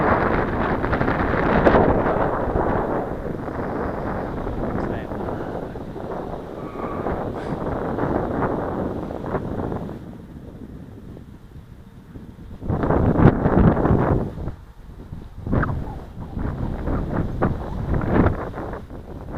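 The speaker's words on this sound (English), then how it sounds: "Definitely windy down here." Strong wind buffets the microphone in loud, rumbling gusts that ease briefly midway before surging again.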